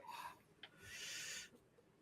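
A cartoon bird from Cadillacs and Dinosaurs imitates a car horn, giving a faint, short hooting honk with a breathy rasp that swells and fades over about two seconds.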